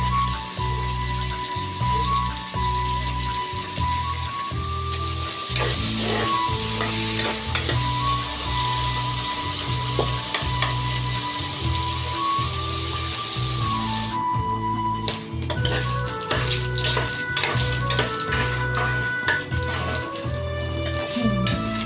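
Nethili fish (anchovies) fry in hot oil in a kadai with a steady, dense sizzle and crackle, broken by repeated stirring and scraping sounds throughout.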